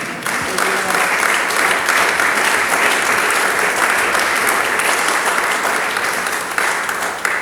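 A congregation at a Spanish-language church service claps steadily and loudly in praise for several seconds, a dense, continuous patter of many hands with faint voices mixed in.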